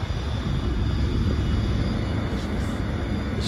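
An emergency power generator runs inside a so-called silent container, recorded out in front of a door in Oud-Berchem, giving a steady, loud low rumble with a constant hiss, no break for the whole stretch.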